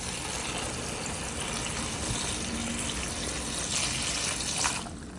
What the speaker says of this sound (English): now let's get some water in this pot